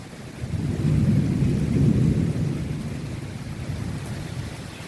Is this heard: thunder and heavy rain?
yes